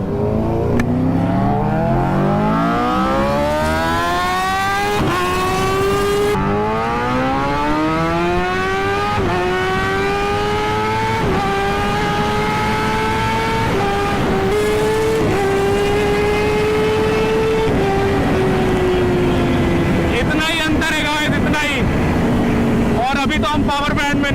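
A superbike accelerates hard in first gear, its engine note climbing in a series of loud, close rising sweeps that drop and climb again, with a burst of high revving near the end.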